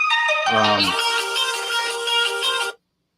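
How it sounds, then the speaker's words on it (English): A telephone rings with a bright electronic ringtone, one burst of layered musical tones lasting about two seconds before cutting off abruptly into silence. "as the phone rings"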